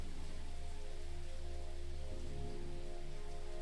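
Steady rain falls outside a tavern at night, a continuous even hiss of drops with a low hum underneath, no voices.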